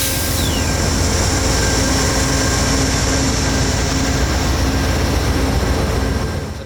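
A passenger train running at night during seasonal railfanning, a loud, continuous heavy rumble and roar held close and steady, easing slightly at the very end.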